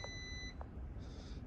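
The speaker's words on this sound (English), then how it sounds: "Beeping away at me." Brand-new Audi RS3 Vorsprung quattro with delivery mileage giving off short electronic warning beeps, a couple of brief tones over a low steady background hum.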